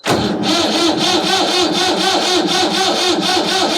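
An old 1972 tractor engine cranks with a rhythmic, laboring churn on a drained battery, loud and close, the starter pulsing steadily without catching.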